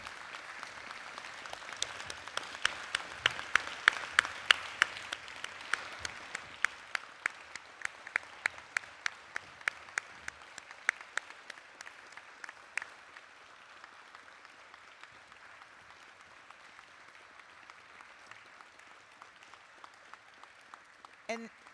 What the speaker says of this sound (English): let's give a round of applause and even more a profound pledge of solidarity for our colleagues and comrades, the brave journalists